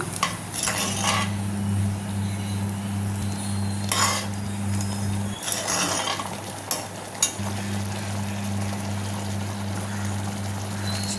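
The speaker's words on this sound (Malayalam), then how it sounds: "നന്നായിട്ട് മിക്സ് ചെയ്തുകൊണ്ടിരിക്കണം അല്ലെങ്കിൽ അടിയിൽ പിടിക്കും" Banana curry mixture with rice being stirred continuously in a pot, a steady scraping and swishing with occasional utensil clinks against the metal over a constant low hum; no talking.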